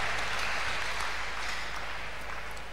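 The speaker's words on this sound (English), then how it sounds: "Clap unto God for that great miracle." A church congregation claps together after a testimony of a miracle, a loud, sustained wash of applause that tapers slightly toward the end.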